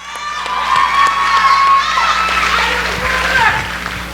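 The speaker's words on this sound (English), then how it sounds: "So let's give a round of applause for this amazing girl." A student association show's recognition segment draws applause with loud cheering and shouting from a young crowd, an enthusiastic burst of whoops and voices that stays strong throughout.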